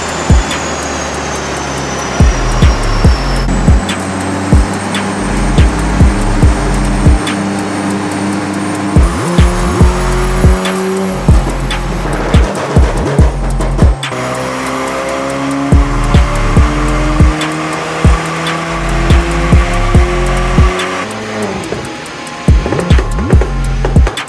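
A car revved hard on a dyno, loud and close, with repeated rising engine pulls, gear-like steps in pitch and sharp pops between runs.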